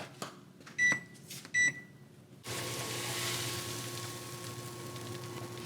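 An oven beeps twice in short electronic tones while being set to preheat to 350, followed by a steady fan-like hum as it starts running.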